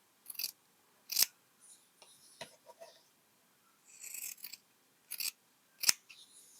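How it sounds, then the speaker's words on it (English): Scissors snipping through fabric to cut out a tumbler shape for English paper piecing, a few crisp separate cuts at close range with short quiet gaps between them. "And then cut out your shape, doing the 1/4 inch seam allowance."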